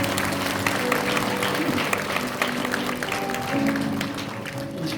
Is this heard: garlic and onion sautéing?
no